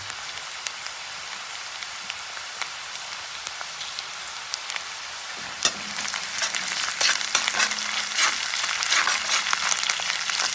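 Steady sizzling of fish head and intestine frying with ginger paste in a Manipuri home kitchen, a soft crackle that swells into loud, dense spattering after a few seconds, with occasional stirring scrapes and no talk.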